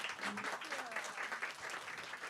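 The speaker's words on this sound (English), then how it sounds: "Let's give a huge round of applause for Sarah Penner." An audience at a book event applauds steadily, a dense, even wash of clapping from many hands, moderately quiet and continuous throughout.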